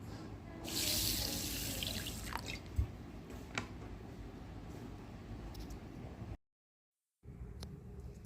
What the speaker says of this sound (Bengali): এটাকে ভালো করে পরিষ্কার করে ধুয়ে জল দিয়ে কিছুক্ষণ ভিজিয়ে রাখতে হবে।